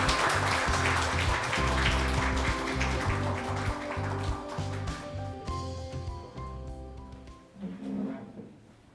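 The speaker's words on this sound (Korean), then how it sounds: "모두 큰 박수로 맞이해 주시기 바랍니다." An audience applauds at a Korean government youth debate event, with dense clapping over a musical backing that thins out and fades toward the end.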